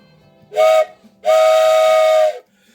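Two blasts from a toy train whistle, a short toot and then a longer steady one, loud and close with a breathy steam-like hiss, and no talking.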